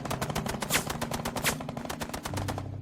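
Rapid machine gun fire from a beach battle against Japanese machine gunners, a loud continuous burst of evenly spaced sharp shots with a low rumbling undertone, alone without voices.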